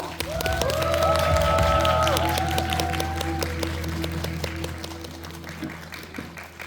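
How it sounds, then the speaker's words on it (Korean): An audience in a cinema auditorium at a film screening applauds and cheers to welcome the director and seven actors, a loud dense roar of clapping over bright musical tones that gradually thins out. "큰 박수로 환영해 주세요"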